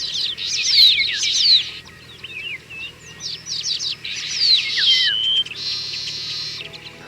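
Male weaver birds singing at their nests in Kumaon: busy overlapping high chirps, trills and buzzy phrases, close and loud, continuing throughout with no talking.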